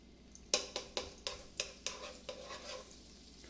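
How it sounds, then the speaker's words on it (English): Garlic sizzles in a frying pan while being stirred, with a soft hiss under a regular series of about ten sharp scraping taps, close and fairly quiet, with no voices. "And you always want to hear that sizzling sound."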